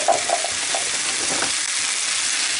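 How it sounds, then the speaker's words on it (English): Pork tenderloin sears in a hot cast iron pan with fruit alongside, giving a loud, close, continuous sizzle with a few brief crackles at the start and no talking. "we're going to go ahead and sear it"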